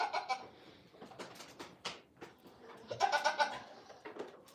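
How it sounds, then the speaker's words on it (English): A goat on a small farm gives a series of deep, throaty maa bleats, heard muffled through a door, with a few separate calls and some other farm-animal noise around them. "If you hear that goat with kind of a deep maaing through the door"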